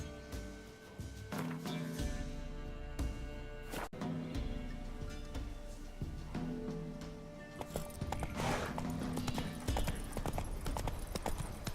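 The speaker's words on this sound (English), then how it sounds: "Run, Roach." A horse gallops in The Witcher 3 video game, its hooves clip-clopping in a fast, continuous rhythm, close and loud, over a game soundtrack with occasional snorts.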